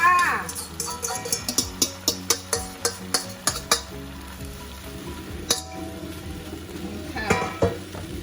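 Potatoes frying in a pan for a simple home breakfast, with a string of sharp, regular scraping clinks of a utensil against the pan over a low sizzle, pausing briefly before a final burst of stirring.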